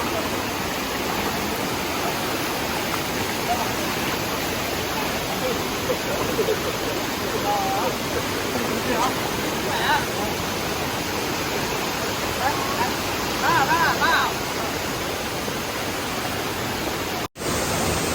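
The Thac Voi waterfall and stream in Vietnam rush steadily and loudly at close range, a continuous broadband roar with faint voices now and then beneath it.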